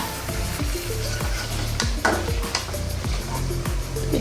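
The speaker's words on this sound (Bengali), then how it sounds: "এটাকে এখন ভালো মতো লেড়ে চেড়ে মশলাগুলো প্রত্যেকটা চিংড়ির গায়ে লাগিয়ে দেব" Large prawns cook in spice masala with a constant close sizzle, while a spatula scrapes and knocks against the pan at an irregular rhythm.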